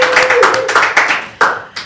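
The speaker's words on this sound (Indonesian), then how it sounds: "Mana tepuk tangannya terlebih dahulu." Audience applause at a podcast recording, a few scattered, uneven bursts of hand claps close by, sparse and brief rather than a sustained ovation.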